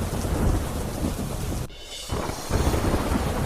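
Heavy monsoon downpour at Damodar Kund in Gujarat, a steady roar of rain with thunder rumbling through it, loud and continuous, briefly dipping before the storm noise swells again.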